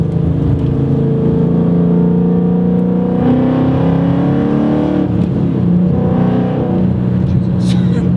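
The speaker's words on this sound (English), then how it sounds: "Today I'm in my friend's 2013 Mustang GT, and it is really loud and makes a really nice sound." A loud 2013 Ford Mustang GT with an aftermarket exhaust and a K&N cold air intake revs up close, its engine note steadily climbing and falling, heard from inside the car.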